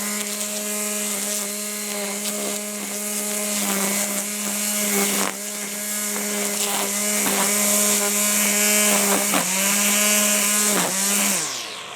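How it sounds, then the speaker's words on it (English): An ECHO 58-volt brushless battery string trimmer runs steadily for the whole stretch, giving a loud, close, high-pitched electric whine with a buzzing edge and slight dips in pitch as it cuts, then winds down at the end. "Now let's see what type of performance the weed eater is going to give us."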